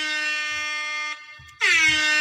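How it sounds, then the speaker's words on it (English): An air horn alarm from a sound effect machine blares loudly in a long sustained tone, cuts out briefly, then blasts again just as loud. "This is the absolute best sound machine ever."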